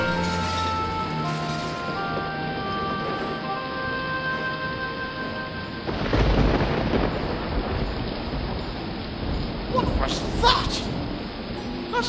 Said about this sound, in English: Sounded like thunder!